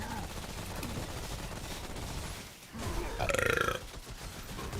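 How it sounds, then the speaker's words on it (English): A burp after drinking a sugary drink called happy juice rises out of a steady background murmur near the end, one short rough belch standing clearly above the surrounding sound. "That's what the burp was."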